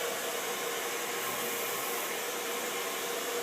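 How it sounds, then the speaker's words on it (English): A salon blow dryer heating hairspray into styled hair gives a steady, loud, close whooshing airflow that holds evenly throughout with no pauses or voices. "I'll take the blow dryer and I'll use the hairspray at the same time, and I'll heat the spray into the hair"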